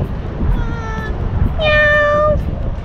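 A nearby cat gives two clear meows, the second longer and louder, over steady background noise at a New Year's gathering in Dubai.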